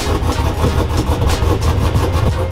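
A cold truck engine idles steadily and loudly up close, a continuous low rumble with a slightly uneven, throbbing pulse and no revving.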